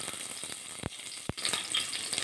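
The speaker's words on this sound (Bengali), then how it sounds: "এবার কড়াতে দিয়ে দেবো, দিয়ে উচ্ছেগুলো ভাজা করে নেবো।" Bitter gourd pieces fry in a wok with a steady, close sizzle, broken by two sharp clanks of a utensil against the pan.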